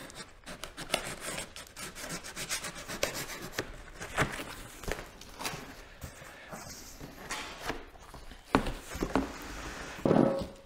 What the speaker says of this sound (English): Nothing a buck knife can't handle